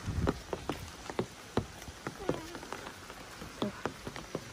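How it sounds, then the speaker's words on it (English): Rain patters on a flooded driveway during South Korea's monsoon season, with scattered close drops striking the surface in an irregular rhythm over a soft wet background. "it's raining"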